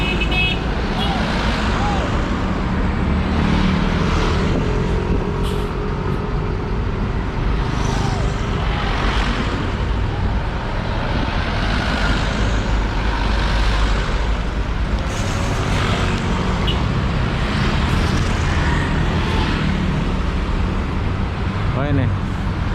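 Buses idling and moving at Lebak Bulus bus terminal in Jakarta, a dense, loud wash of diesel engine rumble and traffic noise with occasional horn toots, running throughout under talk.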